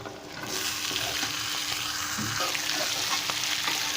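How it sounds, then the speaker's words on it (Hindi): Potatoes fry with cumin in a hot pan for zeera aloo bhujia, a loud continuous sizzle with scraping stir strokes and occasional clinks, steady for a few seconds. "अभी नाज़रीन इसमें मैं आलू शामिल कर लेता हूँ।"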